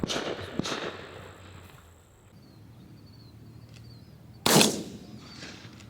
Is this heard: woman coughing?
no